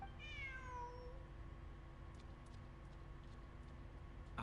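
A cat in the video game Genshin Impact gives a single clear meow at the start, close and distinct, followed by quiet ambient game background.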